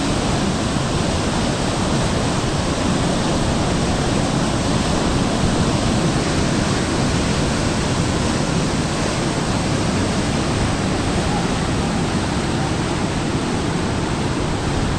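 A loud, steady roar of floodwater rushing through an open floodgate at Harike Pattan pours on without a break, dense and close, with no voices.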